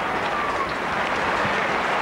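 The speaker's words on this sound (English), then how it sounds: "drawing applause again from the Anfield crowd" A football crowd at Anfield applauds during a Liverpool v Tottenham Hotspur Super Cup match, a steady, dense wash of clapping and crowd noise that holds evenly for the whole stretch with no distinct voices.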